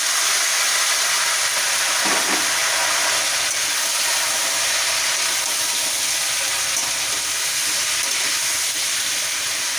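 Green jackfruit pieces fry in hot oil in a pan, giving a loud, dense, unbroken sizzle and hiss that fills the whole stretch without speech.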